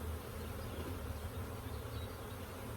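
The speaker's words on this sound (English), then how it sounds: "So there's a box of bees." Honeybees hum steadily inside a hive box, a low, continuous, fairly quiet drone with no talking.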